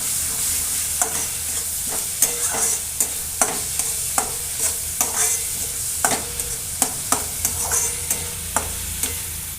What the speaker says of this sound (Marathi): त्यामध्ये परतून घ्यायचे छान